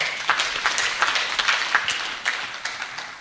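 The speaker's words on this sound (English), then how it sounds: "Please clap for yourselves." Clapping from the audience at an oath ceremony for a pioneer medical class, a fairly loud spatter of hands that thins and fades toward the end.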